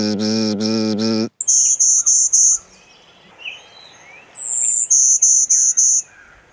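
A golden-winged warbler sings its buzzy song in two bursts of rapid, evenly spaced high buzzes, clear and fairly close, after a person imitates the song with voiced buzzing at the start.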